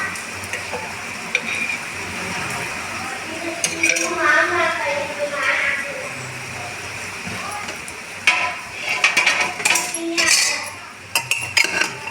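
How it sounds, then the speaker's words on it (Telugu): Utensil scraping and clinking in a pan while a masala mixture is stirred for stuffed brinjal, with faint sizzling; spoon strikes come in irregular bursts, loudest toward the end. "బాగా కలుపుకోవాలి."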